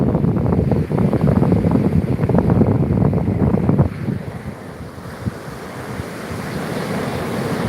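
Ocean surf and gusting wind at Myrtle Beach boardwalk on an afternoon, a loud buffeting roar for the first four seconds that drops to a quieter, steady wash of waves, with no talking.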